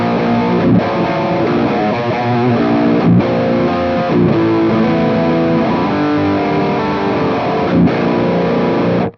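Electric guitar played through a distortion pedal into a Class D power amp, loud and continuous with heavily driven sustained chords and a few brief pick attacks, and no talking.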